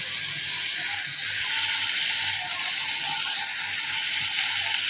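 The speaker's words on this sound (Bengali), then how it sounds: "তো আদা রসুন তো ভাজতে নিচ্ছি" Ginger garlic paste fries in oil in a wok, a loud, even, hissing sizzle that runs unbroken and close throughout.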